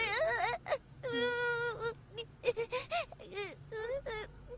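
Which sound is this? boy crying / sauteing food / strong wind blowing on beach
boy crying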